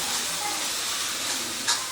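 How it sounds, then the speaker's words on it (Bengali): Hot water poured into frying masala for a restaurant-style paneer bhuna masala sets off a steady, close sizzling hiss, with one brief louder burst near the end. "এবারে এই মশলাটা যাতে পুড়ে না যায় তার জন্য কিন্তু আমি এখানে গরম জল ব্যবহার করছি"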